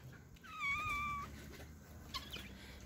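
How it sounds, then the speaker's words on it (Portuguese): A cat gives a drawn-out, wavering meow up close over a faint background hum, then a brief, quieter second sound. "Tá um gato muito bonito."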